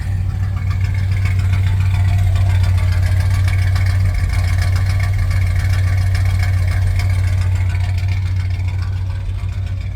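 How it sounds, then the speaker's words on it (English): A Ramcharger engine with a full Holley Hooker exhaust idles steadily after a cold start with a misfire, a loud, continuous low rumble close by with no pause. "Here's a cold start."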